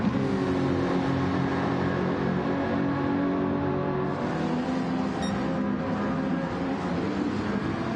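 Renault race car in a Gr.4 racing video game, its engine droning steadily and loudly with layered harmonic tones held throughout, no voices over it.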